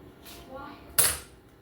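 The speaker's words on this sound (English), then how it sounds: "we're just going to make a mark here in the wrapper and just cut it with a butter knife" A butter knife cutting a block of butter through its wrapper, with a soft brief scrape followed by a single sharp click of the blade against a hard surface, close and quiet, no talk.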